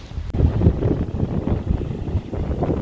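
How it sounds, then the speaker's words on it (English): Strong, gusty wind on a Tunisian beach roars and buffets the microphone continuously, with a low rumbling blast throughout and no voices. "I think it's a bit too windy."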